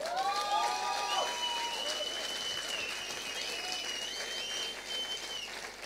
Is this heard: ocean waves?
no